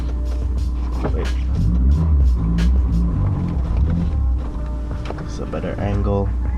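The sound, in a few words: Honda S2000 car driving off the driveway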